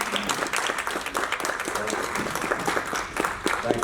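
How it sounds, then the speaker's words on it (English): Steady, dense applause from an audience at a Black History Month civic gathering at Schoolcraft in Livonia, a continuous wash of many hands clapping close and loud throughout. "Please help me give Hakim a round of applause."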